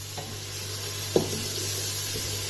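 Garlic and ginger paste frying in a pan with green chillies for a Kashmiri-style brown lentil dal, a steady close sizzle with one brief stir or clink.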